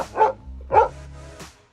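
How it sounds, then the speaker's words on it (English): A dog outdoors in a spring vegetable garden lets out two sharp, loud barks close by, followed by a softer short yip, with brief quiet between them. "He likes to bark at me when I'm outside all the time."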